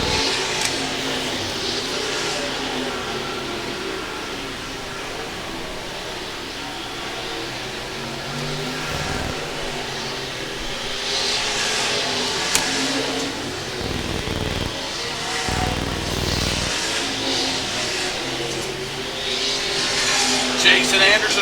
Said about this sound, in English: He'll come back on the racetrack, but he'll lose a position to Don Mars.